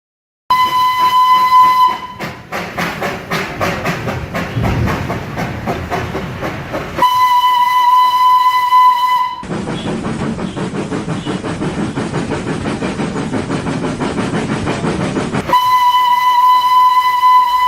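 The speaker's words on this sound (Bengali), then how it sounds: "কেষ্ট, আগে এই নে ট্রেন স্টেশন চলে এসছে বুঝলি।" Steam train arriving at a station: long piercing whistle blasts alternate with hissing steam and rhythmic rumbling chuffs, loud and close.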